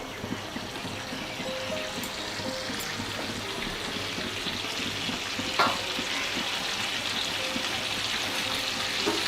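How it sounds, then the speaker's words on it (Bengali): A blended paste of ginger, garlic, onion and tomato fries in a pan for butter chicken, giving a soft, even sizzle and bubbling throughout, with one sharp clink of a utensil midway. "এখানে আমি 1 ইঞ্চি আদা, রসুন, পেঁয়াজ এবং একটি টমেটো ব্লেন্ডারে ব্লেন্ড করে রেখেছিলাম। এই মিক্সিটা এখানে ঢেলে দিলাম।"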